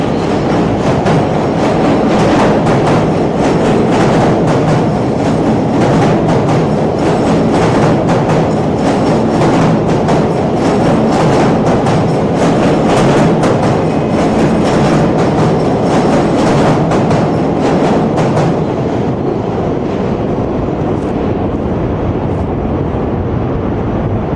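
An elevated train rumbles by directly overhead on a New York City street, a loud, sustained roar with rapid clickety-clack rail rhythm that eases slightly near the end.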